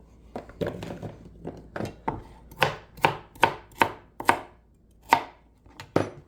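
Knife chopping beef into chunks for stew on a cutting board, a run of sharp close thuds at an uneven, brisk rhythm, alone without talk.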